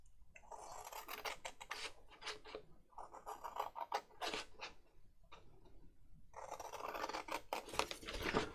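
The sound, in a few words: cutting out a paper tag with scissors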